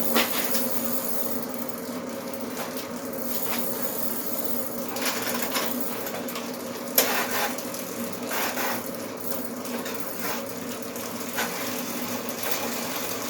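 A 1980 Schwinn Traveler 10-speed bicycle's steel freewheel spins with a steady, fast ratcheting whir that continues close by and fairly evenly throughout, marked by one sharp click partway through.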